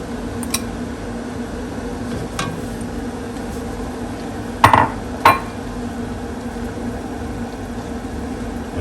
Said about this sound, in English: so now we're just going to add in the shiitakes